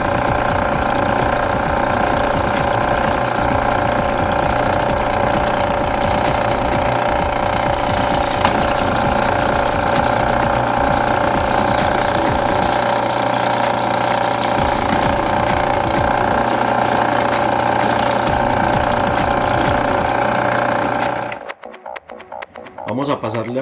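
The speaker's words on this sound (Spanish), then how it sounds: "vamos a perforar hasta que pasen las dos caras del tubo." A drill with a small bit bores through both walls of a metal tube, giving a loud, continuous grinding whine with rapid rattling. The drilling stops abruptly near the end.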